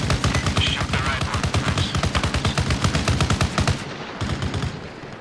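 Heavy machine-gun fire from a BTR armored vehicle's gunner hammers out in a long rapid burst of evenly spaced, loud, close shots, then breaks briefly before a few more rounds.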